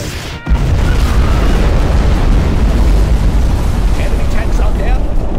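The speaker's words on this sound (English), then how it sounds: "We have launched our nuclear missile." A nuclear missile detonates in Command & Conquer Generals Zero Hour, a sudden loud boom swelling into a sustained, roaring rumble that fills the whole stretch without pause.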